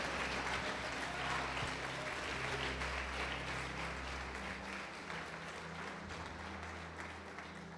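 A church congregation applauds continuously, a dense, steady wash of many hands clapping in a reverberant hall that holds for several seconds and fades slightly toward the end.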